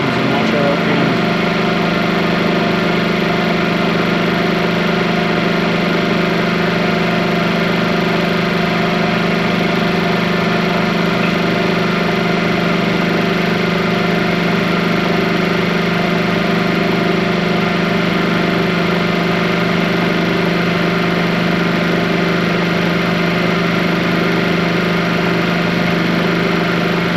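A John Deere engine runs steadily during a Delco Remy generator test, producing a loud, constant hum with an even drone throughout.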